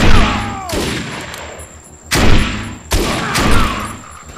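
Gunfire in the video game Defiance: loud, dense bursts of shots come in several waves with sharp booming impacts, close and overlapping, with no talk.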